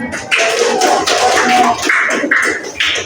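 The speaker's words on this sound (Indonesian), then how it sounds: "Tepuk tangan." A class of students claps together in a classroom, a dense patter of many hands that fills the clip at a steady, fairly loud level.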